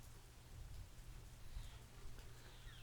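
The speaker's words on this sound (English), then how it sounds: "I hate the rain." Steady rain falls outdoors as a soft, continuous hiss with a low rumbling undertone, constant and unbroken with no voices.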